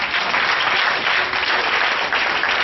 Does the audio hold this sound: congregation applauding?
yes